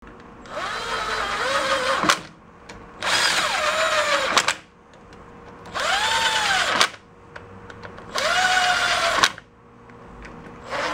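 A power drill runs screws lightly into a VW bus gear reduction box in four separate whirring bursts, each rising and falling in pitch, with short quiet gaps between them.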